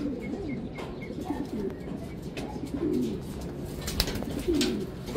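Racing pigeons at a derby loft during a race, with soft repeated cooing calls rising and falling against steady outdoor background noise, moderately close.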